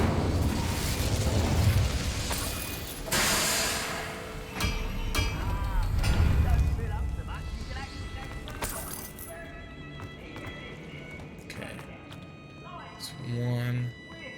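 A spell is cast in Hogwarts Legacy, answered by a loud fiery whoosh and booming burst, then rumbling and crackling that fade, with a few smaller pops later and voices talking over parts of it.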